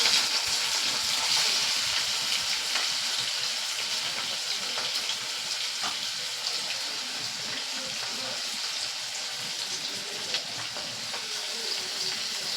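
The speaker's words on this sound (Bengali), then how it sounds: "এবার পেঁয়াজগুলো এই তেলের মধ্যে দিয়ে দেব।" Onions dropped into hot oil already holding whole cloves, cardamom and whole chillies, frying for a prawn and potato curry; a steady broadband sizzle with faint stirring and scraping runs unbroken throughout.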